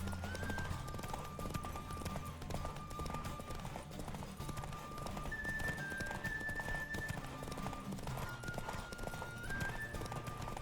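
A horse gallops with steady clip-clopping hooves during a race in the Witcher game, the hoofbeats running continuously under a busy, loud layer of music and game sound.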